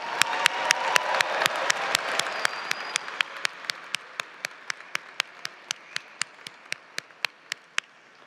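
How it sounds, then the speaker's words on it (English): Applause from a university commencement audience at UC Berkeley honoring graduates' families and friends, a dense wash of clapping that swells early then thins to a few scattered, distinct claps near the end. "Let's have a round of applause for them."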